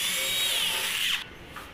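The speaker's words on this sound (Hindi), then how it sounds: "यहाँ पे ड्रिल हो गया हमारा," A power drill bores into a door to fit a Europa 8010NS night latch lock, giving a loud, steady high whine for about a second before it cuts off, followed by a faint brief tail.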